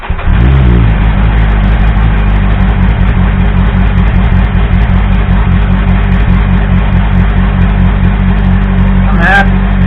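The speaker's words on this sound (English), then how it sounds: "bike's come up to temperature, so I just do a hot start" A Triumph Speed Four motorcycle, warmed up to temperature, hot-starts and settles into a loud, steady running engine note close by, with a brief rise in revs near the end.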